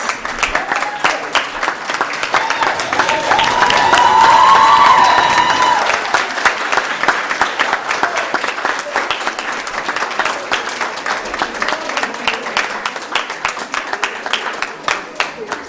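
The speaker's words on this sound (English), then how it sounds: "Clap for them, clap." Audience at the AKMCC finals applauds the Kenyatta University team: a warm swell of clapping rises to a peak, then settles into lighter scattered clapping, with a voice speaking over it.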